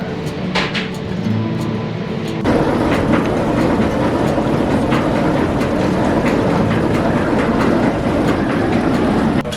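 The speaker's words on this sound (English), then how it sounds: "we're going to take a caboose ride on a Southern Pacific Railway train" A Southern Pacific Railway caboose at a railway museum rolls along with a loud, steady rumble and rattling, and sharp rhythmic clacks of the wheels over rail joints.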